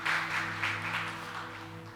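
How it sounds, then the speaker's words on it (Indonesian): A church congregation applauds in a steady wash of clapping with a low electronic hum underneath, moderately loud and fading slightly over two seconds. "Beri tepuk tangan untuk Tuhan"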